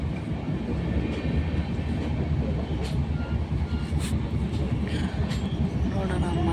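A 5 o'clock passenger train runs on rails, producing a continuous loud rumble with a faint rhythmic clatter of wheels and occasional metallic squeaks, heard from inside the moving carriage without pause.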